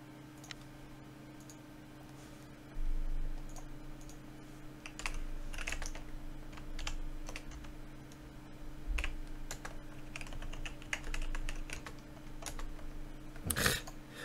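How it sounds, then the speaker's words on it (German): Computer keyboard typing and clicking during an online game of Town of Salem, scattered soft keystrokes and bursts of taps over a low room hum, with a sharper cluster near the end. "Tastatur, please."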